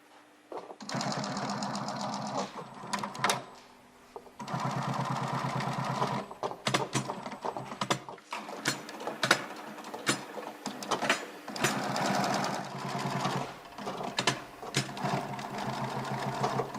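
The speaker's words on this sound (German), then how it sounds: "Danach näht Markus den Schaft des Schuhs an der Vorderseite zusammen." An industrial sewing machine stitches the upper of a classic running shoe at the front, in loud close bursts of rapid mechanical chatter lasting a few seconds each, separated by short pauses and small clicks.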